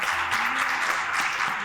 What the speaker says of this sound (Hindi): इसके लिए आप दोनों के लिए मैं तालियां बजाऊं।